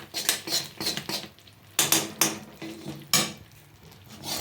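A spoon stirs peanut chikki sugar syrup in a pan, giving repeated scraping and clinking strokes in an uneven rhythm, close and fairly loud, with no voice over it.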